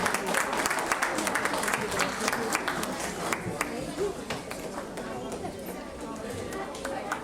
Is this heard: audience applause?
yes